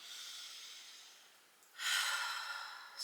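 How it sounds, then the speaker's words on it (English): Slow, deep breathing during a yoga session: a long, soft airy exhale that fades out, then a stronger, hissing breath through the nose or mouth, close and alone. "Slow, deep breaths"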